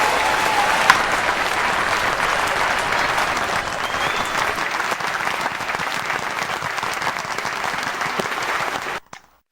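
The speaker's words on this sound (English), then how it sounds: "Give our guests a wonderful applause here." A studio audience gives the show's guests loud, sustained applause with a few whoops, continuous for about nine seconds before it cuts off abruptly.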